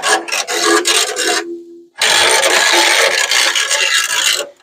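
An old car window being rolled up and down in its tracks after repair, with a weird noise: harsh, raspy scraping and rubbing in two long loud strokes separated by a brief pause, close by and without talking.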